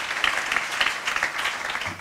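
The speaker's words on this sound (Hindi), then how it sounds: "लेकिन तुमने जो गीत गाया, आप तालियों के हकदार हैं" Applause at a kavi sammelan music and poetry evening for a singer, a brief dense burst of many hands clapping, moderately close and continuous.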